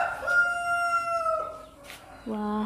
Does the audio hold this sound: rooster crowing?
yes